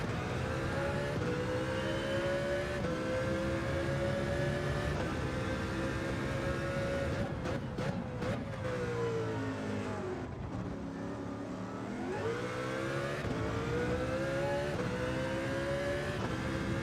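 Race car in a racing video game licence test: a steady, loud engine drone that rises and falls with throttle and gear shifts and briefly dips under braking, continuous and close, with no talking.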